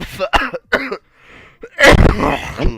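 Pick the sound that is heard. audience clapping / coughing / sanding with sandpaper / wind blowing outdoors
coughing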